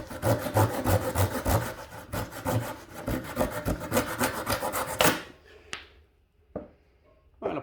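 A small saw or knife cuts a taper on a Japanese maple cutting during a bonsai repot and trim, giving close, rhythmic rasping strokes that stop abruptly, followed by a few faint taps and handling sounds.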